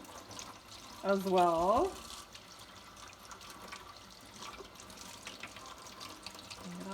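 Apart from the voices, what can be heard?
rinsing eggs under running tap water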